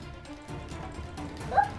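Small dogs yipping and barking in a video game fight, appearing as a couple of brief, light yelps that sit low in the mix over faint background game noise, with no talking.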